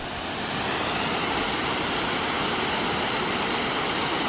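A waterfall in New Zealand, signposted off the Kauri track near Whangarei Falls, roars as a steady, dense rush of falling water that holds even and fairly loud from start to finish, with no voices.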